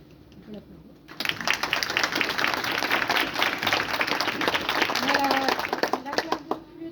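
An audience at a music school concert applauds a trumpet class student, with dense steady clapping bursting in after a moment of quiet and continuing throughout, and voices faintly mixed in.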